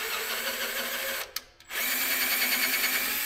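A power tool chases bolt threads during a Terex crane control installation, a steady high-pitched drilling whine that cuts out briefly around the middle before running on again, close and loud.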